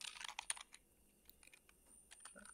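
Quick bursts of computer keyboard typing while writing HTML code, close and fairly quiet, with short clusters of keystrokes separated by brief pauses and no speech.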